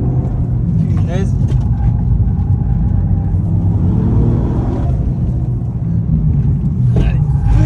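Toyota Yaris GR stage 3 engine rumbling steadily and loud through a drift, with a brief rising whine near the start; voices talk over the car.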